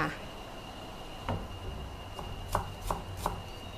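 Onions are sliced with a knife on a board, giving a few sparse, faint cuts over a steady background hum while sweet fish sauce simmers.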